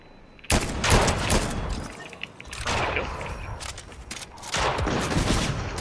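Bursts of Fortnite gunfire: three loud, close volleys of rapid shots with short pauses between them, and little or no talk.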